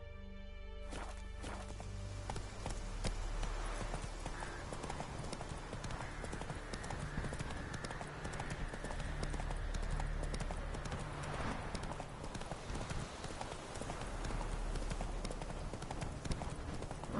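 Roach's hooves clip-clop steadily and close in Witcher 3, a continuous even rhythm of horse steps with game ambience and music underneath and brief snatches of talk.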